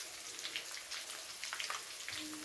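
Chopped onion frying in a pan of hot oil with garlic for a vegetarian spinach curry, a soft continuous crackling sizzle with scattered pops, quiet and close.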